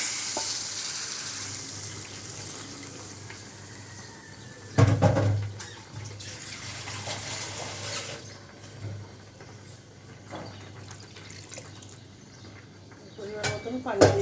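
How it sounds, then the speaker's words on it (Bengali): Water poured into a hot pan of fried spices for a green banana and catla fish curry gives a sudden burst of loud sizzling that settles into steady frying hiss, with a person talking over it. "পরিমাণ মতন পানি দিয়ে দেব।"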